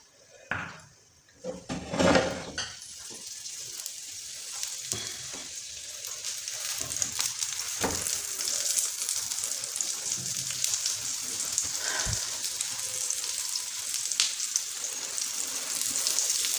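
A cauliflower paratha fries in ghee on a pan, giving a steady crackling sizzle that builds after a few seconds and stays close and fairly loud, with occasional clinks and spatters from turning it.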